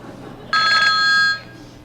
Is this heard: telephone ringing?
yes